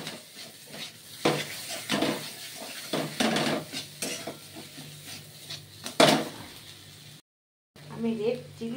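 Stirring a fried egg devil mixture in a pan, with clattering spoon-on-metal scrapes and knocks at irregular intervals over a soft sizzle, while a person talks throughout.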